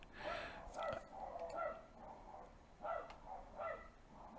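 A human voice imitates a dog barking with several faint, quiet woofs in an uneven rhythm, with soft breathy sounds in between.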